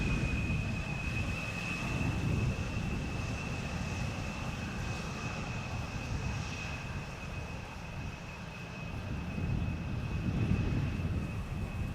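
A Boeing 747 freighter in Kühne+Nagel livery, one of the last ever built, arrives at Schiphol. Its engines give a distant, steady roar with a thin high whine held above it, swelling slightly near the end.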